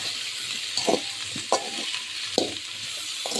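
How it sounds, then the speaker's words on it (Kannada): Capsicum dry-frying in a pan with chilli powder and masala: a steady sizzle runs throughout while a spoon scrapes and stirs in four distinct bursts, close up, with no voices. "ಇಷ್ಟೇ ಚೆನ್ನಾಗಿ ಫ್ರೈ ಮಾಡಿ"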